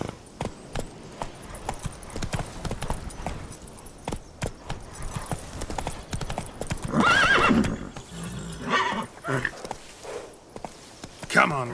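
Horse hooves clip-clopping at a brisk gallop in The Witcher 3 video game, with a whinny partway through and a voice urging the horse on over the hoofbeats.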